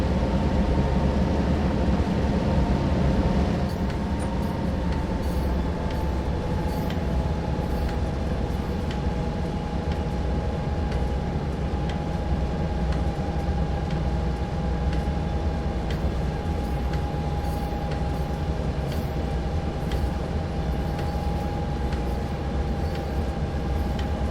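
Diesel locomotives idle and run in Train Sim World 2, a steady low engine drone with a sustained mid-pitched tone held throughout, loud and constant with no talking.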